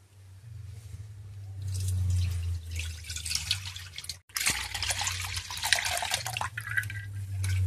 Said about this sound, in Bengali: আমি ছাঁকনিতে ছেঁকে নিচ্ছি।